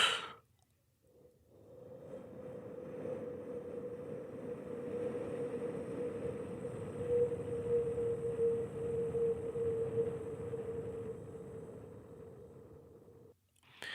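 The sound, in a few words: breathwork voice imitating wind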